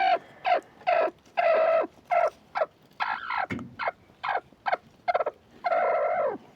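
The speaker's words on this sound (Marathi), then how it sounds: "आता हे अंड्यावर बसवलेली आहे" A brooding hen of a spurred fighting breed, sitting on eggs, gives a series of loud, close, drawn-out throaty calls in irregular bursts, alone without talking.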